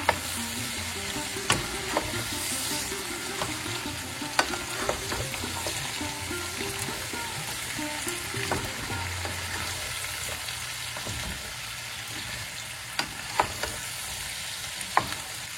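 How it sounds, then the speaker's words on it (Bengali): Spices including chili, cumin and coriander fry in a pan for a Bengali vegetable chhyachra, a continuous close sizzle broken by scraping stirring strokes and occasional sharp clinks of the spoon. "এই অল্প মশলা দিয়ে আমি একটু কষে দিই"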